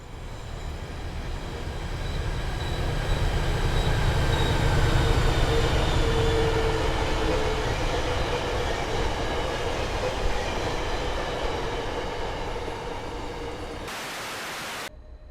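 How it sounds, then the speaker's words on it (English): An MBTA diesel commuter train in Train Sim World 5, hauled by MPI F40PH-3C or HSP46 locomotives, runs with a continuous loud rumble and rail noise, steady throughout before an abrupt change near the end. "this route includes the MPI F40PH-3C and HSP46 diesel locomotives"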